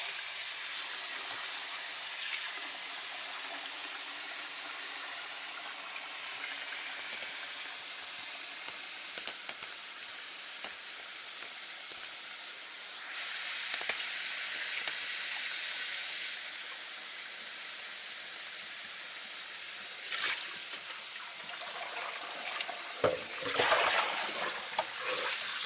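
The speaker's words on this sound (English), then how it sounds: "I'm just going to rinse this till the water comes clean." Cool tap water running steadily over dyed yarn being rinsed in a sink, a continuous hissing splash with occasional louder spatters and handling noises.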